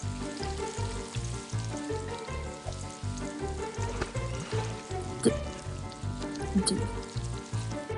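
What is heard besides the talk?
bacon sizzling on the grill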